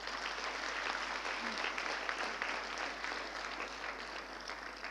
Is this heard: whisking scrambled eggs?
no